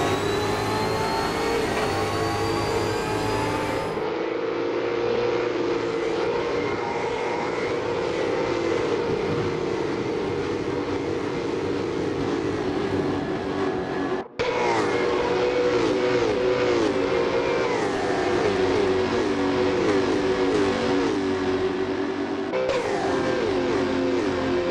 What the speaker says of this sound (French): un petit plan ou deux pour vous faire un petit peu plus à l'idée du son des voitures